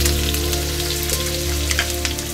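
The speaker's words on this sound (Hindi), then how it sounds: "तेल गर्म हो चुका है, इसमें प्याज डाल देंगे।" Onions hitting hot oil in a pan at home kitchen, giving a steady, close crackling sizzle with dense spitting pops throughout, no voices.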